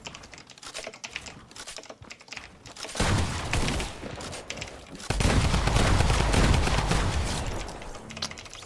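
Rapid gunfire in the video game Fortnite crackles in dense, sustained bursts that grow louder and fuller partway through, heard alone without speech.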